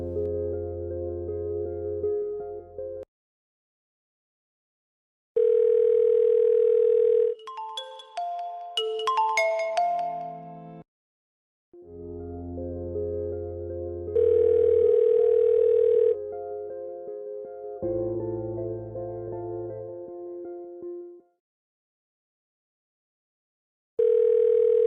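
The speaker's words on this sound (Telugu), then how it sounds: "ఎన్నిసార్లు ఫోన్ చేయాలి? Phone lift చేయవేంటి?" An unanswered phone call rings in repeated loud electronic tone bursts separated by silent gaps, with a brief melodic jingle partway through.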